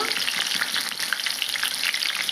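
Amaranth leaves fry in hot oil alongside green chillies in a pan, a loud, close, continuous crackling sizzle with bright popping spatters and no voices.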